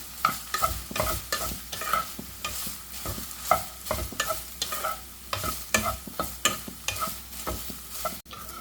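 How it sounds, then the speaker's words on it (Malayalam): Soya chunks frying in oil in a pan, stirred in repeated scraping strokes every half second or so over a soft, continuous sizzle, close by and with no voices. "അതിനുശേഷം ഒന്ന് ഫ്രൈ ചെയ്തെടുക്കാം ഈ എണ്ണയിൽ കിടന്ന് തന്നെ ഇത് ഫ്രൈ ആയി വന്നോളും"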